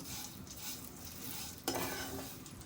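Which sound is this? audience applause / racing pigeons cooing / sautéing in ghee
sautéing in ghee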